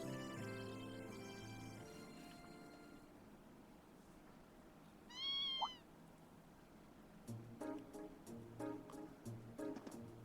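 A single cat meows once in the video game The Legend of Heroes: Trails of Cold Steel II, a clear rising-falling call between stretches of soft game music and ambient background.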